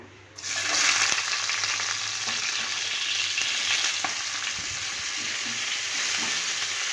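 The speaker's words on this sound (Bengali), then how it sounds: "পেঁয়াজটা হালকা লাল করে ভেজে নেব" Chopped onions with bay leaf and whole cumin sizzle in hot oil in a wok, a loud, steady, close frying hiss that starts abruptly and continues without a break.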